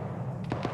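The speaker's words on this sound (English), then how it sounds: "There's gunfire from the roof next to the command building." Gunfire from a rooftop near a command building during an ARMA 3 military simulation game session, with two or three sharp, moderately distant shots cracking over a low, steady background rumble.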